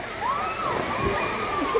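Spring water at Cambuhawe spring flows and sloshes steadily, with a faint thin tone running over the top.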